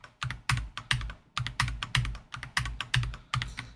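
Rapid bursts of computer keyboard typing as hotkey shortcuts are struck during a fast Excel speedrun, clustered keystrokes in quick irregular rhythm, close and fairly loud with no voices.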